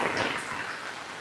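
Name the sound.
rain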